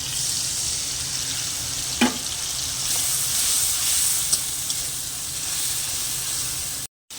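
Spice paste frying in hot oil, a steady loud sizzle and hiss that continues throughout, with a couple of faint clinks partway through.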